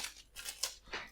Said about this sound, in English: Little pair of scissors.